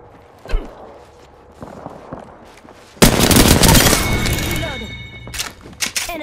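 R99 submachine gun firing in a shooter video game, with a few scattered shots and thuds early on, then a sustained loud burst of rapid automatic fire tapering off into a few more bursts.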